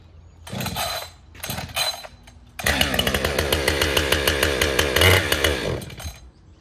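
A Husqvarna 562 XP Mark II chainsaw with stock C83 chain sputters in short bursts, then roars to a sustained high-revving whine, loud and close, its pitch wavering as it cuts.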